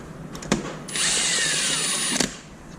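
A power tool snugs down the lug nuts on a car wheel of an LS-swapped BRZ, heard as one sustained high-pitched whirring burst of about a second, framed by a few sharp clicks and clacks, close and loud.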